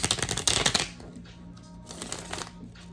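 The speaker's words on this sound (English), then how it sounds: "Do a couple shuffles." Tarot cards being shuffled by hand in a rapid, crisp riffling burst lasting under a second, close and loud, then a quiet room with faint rustling afterward.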